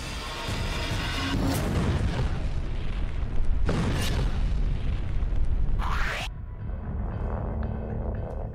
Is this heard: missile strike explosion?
yes